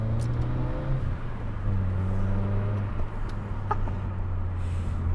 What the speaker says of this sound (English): I'm just loving rev matching down the box